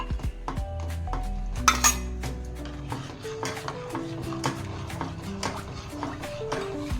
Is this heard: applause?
no